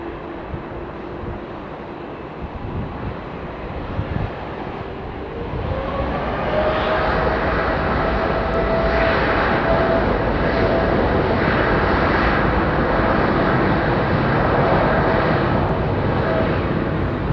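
An Airbus A380 airliner at London Heathrow, a broad jet engine roar that swells from about six seconds and holds steady and loud to the end, with a faint whine above the rumble.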